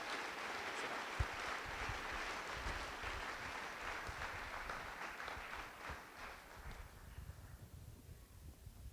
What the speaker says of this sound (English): How about another round of applause for some impressive young men and women?